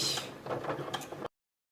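Sewing machine stitching a vinyl and fabric pouch, a fast mechanical whirring run of close stitches lasting just over a second before stopping abruptly, with no talking.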